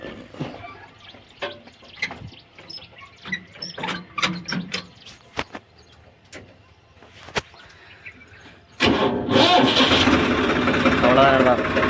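A Mahindra 744 5 Star tractor fitted with cage wheels cranks in a muddy paddy field. Scattered clicks and knocks come first, then the engine fires and runs loud and rough, close by, to the end.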